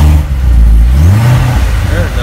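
A supercharged 2017 Corvette Z06 engine revs hard up close, the pitch rising and falling with a whining supercharger note over the loud exhaust roar.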